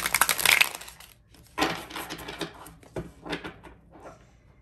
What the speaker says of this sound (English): I'll just give these a couple good shuffles